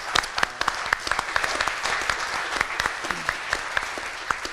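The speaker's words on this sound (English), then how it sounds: "Please, I want to give a round of applause to Dr. Michael Burrows for organizing the event" Scattered hands clap in steady applause from an audience at a community conversation event about homelessness, a moderate, roomy patter that carries on without a break.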